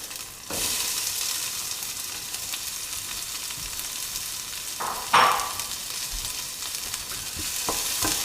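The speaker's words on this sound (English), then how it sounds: "Fry them up." Onions frying in a pan for spaghetti bolognese, a steady close sizzle with a louder crackle as they are stirred partway through.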